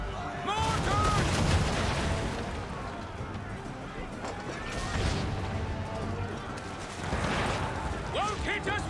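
Mortar fire during a naval battle in the Assassin's Creed 3 video game, dense booming blasts and crashing impacts mixed with shouting voices and game sounds, loud and chaotic in several heavy bursts.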